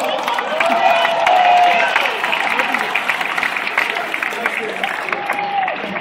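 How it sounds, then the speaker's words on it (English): A college crowd applauds and cheers the volunteers at a hypnosis show, a dense roar of clapping with whoops and voices mixed in, strongest at first and easing off. "Give them a huge round of applause"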